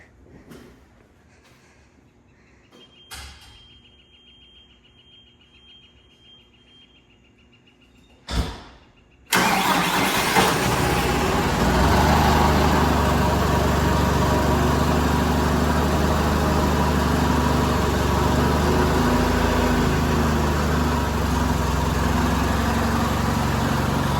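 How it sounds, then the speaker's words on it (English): A farm tractor, a John Deere 5083 with a bad injection pump, is started after a few quiet clicks and knocks, then runs loud and steady as it backs out of a shed, with no talk over it. "Now Dad's going to back out this tractor so we can change its fuel filter."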